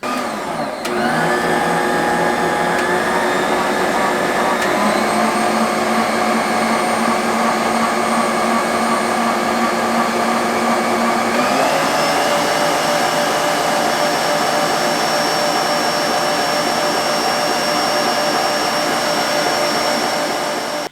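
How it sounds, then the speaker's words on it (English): Bosch Universal Plus stand mixer running at close range, a loud steady motor whine that shifts pitch a couple of times as the speed changes, with no talking. "The mixer itself is loud when it's running as well, but no louder than other mixers."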